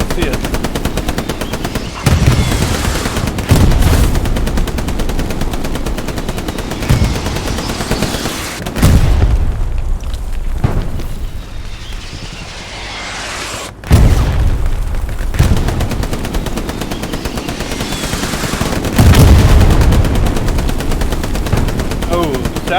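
Hell Let Loose battle sounds with a satchel charge exploding among gunfire: bursts of machine-gun and rifle fire, heavy booms at intervals, some quieter gaps between loud volleys, and a voice talking over parts of the fighting.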